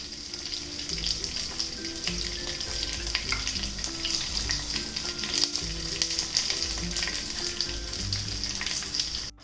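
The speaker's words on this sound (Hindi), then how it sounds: "अच्छी तरह से मिला लें और हरी मिर्च को कुछ सेकंड के लिए हल्का सा भून लें।" Curry leaves and slit green chillies fry with urad dal in hot oil for a temple-style drumstick stir fry. A steady, close sizzle runs throughout, with faint stirring scrapes and no talk.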